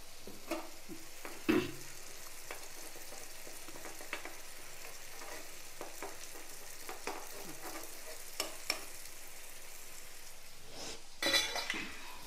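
Ridge gourd is sautéed in a pan with egg and a little turmeric, making a soft, steady sizzle broken by light scraping stirs and a few spoon clinks against the pan, no talking.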